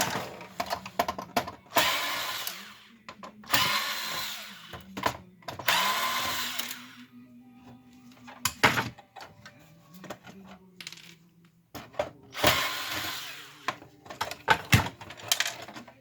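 Screws being removed from the logic board of an HP Officejet J4580 printer, heard as bursts of a small power driver whirring with clicks, metallic clinks and handling noises in between, close up with no talking.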